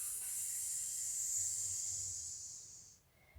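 A single long, breathy hiss imitating a cat, steady for about three seconds before trailing off, made close to the microphone.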